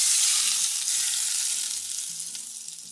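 Cumin, chilli powder and asafoetida hiss loudly in hot oil, a dense, steady sizzle that eases off slightly toward the end, with a low background hum.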